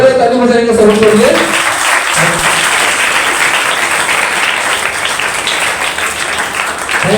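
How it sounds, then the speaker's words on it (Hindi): Audience applause at a school debate competition: dense, sustained clapping that is loud from the start and holds steady throughout, with a speaker's voice briefly audible at the very beginning. "जो है ताली बजाएंगे सबके लिए।"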